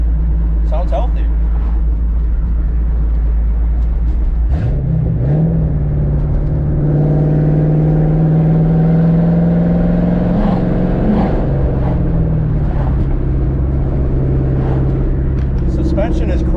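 A Ford Mustang engine hums and revs while driving, heard from inside the cabin with a steady low drone that rises in pitch partway through; someone talks over it.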